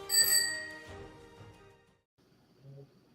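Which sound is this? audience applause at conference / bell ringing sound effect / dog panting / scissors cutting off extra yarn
bell ringing sound effect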